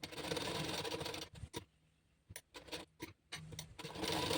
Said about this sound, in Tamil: சுற்றியும் வந்து தையல் போட்டு எடுத்துக்கலாம்